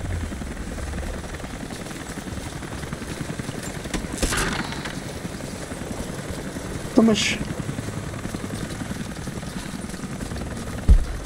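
Helicopter rotors beat continuously in Rise of the Tomb Raider, a steady droning thrum with a couple of louder whooshing swells, while someone speaks briefly over it.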